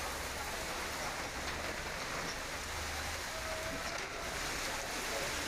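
Pre-monsoon rain falling in Mumbai in the evening, a steady dense hiss of rainfall that continues throughout with no clear voices.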